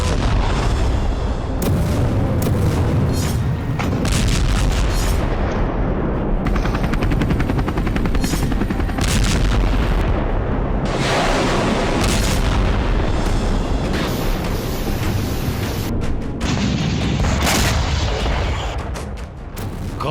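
Israeli air strikes on Lebanon bring loud, continuous rolling booms and crackling bursts of explosions, with rapid gunfire-like rattles layered into a heavy, sustained barrage from start to finish.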